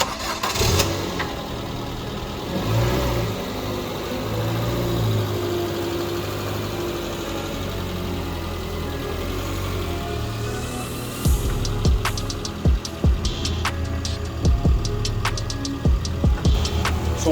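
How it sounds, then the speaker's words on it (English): A Ford Fiesta engine idles steadily up close while warming up, a low continuous rumble. Later it steps up in pitch, with clicks and small knocks over the running motor. "I'm just warming up the engine for the oil to circulate"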